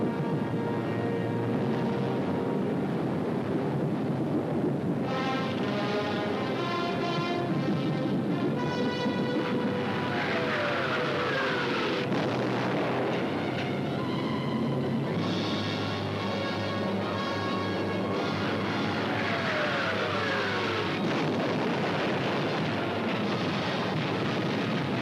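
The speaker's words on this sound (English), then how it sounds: "All the available German night bombers were put into the air" German night bombers of the Second World War fly overhead in a loud, continuous engine drone. Pitch sweeps rise and fall as aircraft pass, with no voices.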